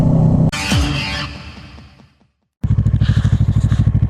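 A motorcycle is ridden, its engine loud and close. A rushing burst fades to near silence, then a rapid, rhythmic pulsing engine note runs steadily to the end.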